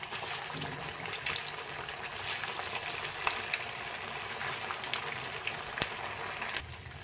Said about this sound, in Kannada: ಆಯಿಲ್ ಸ್ವಲ್ಪ ಬಿಸಿ ಆಗಿದೆ. ಇವಾಗ ಒಂದೊಂದೇ ನಾವು ಹಾಕ್ಕೊಳ್ಳೋಣ